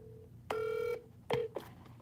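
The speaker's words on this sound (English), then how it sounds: "let me dial this again" Telephone keypad tones sound during a call being redialed: two distinct electronic beeps, the first held about half a second and the second shorter, clear and close over a quiet background.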